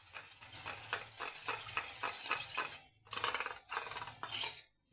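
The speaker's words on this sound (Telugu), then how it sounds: "వాటర్ పోసి కొంచెం పల్సగా కలుపుకోవాలి." A spoon stirs a gravy mixture thinned with water in a container, making close, rhythmic scraping and swishing strokes in quick repeated bursts, with a short pause near the end.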